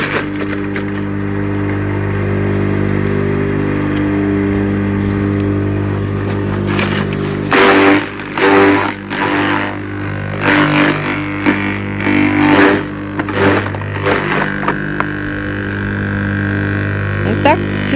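A newly bought garden branch shredder runs with a steady motor hum, and loud bursts of crunching and splintering come as branches are fed in, with a person talking nearby.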